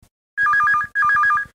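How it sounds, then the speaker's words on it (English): An office telephone rings in two quick electronic trilling bursts, each a rapid warbling ring, loud and close with a short gap between them and no voices. "and then their phone rings"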